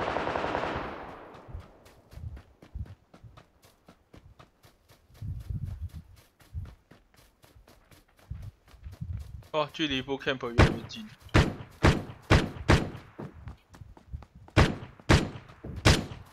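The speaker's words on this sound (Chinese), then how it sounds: "前面有枪声哦" Repeated gunfire in the PUBG Lite battle royale game, sharp single shots and rapid bursts that grow louder and denser toward the end, with people talking over the action throughout.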